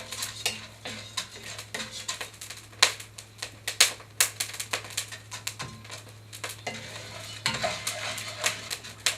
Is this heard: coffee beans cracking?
yes